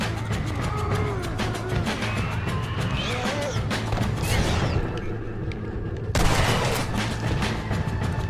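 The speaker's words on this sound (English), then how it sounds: "Who the fuck is shooting at me?" Survivors' gunfire in the zombie game Shot Undead, repeated shots and cracks over busy game noise, with a sharp loud burst near the end and some talk mixed in.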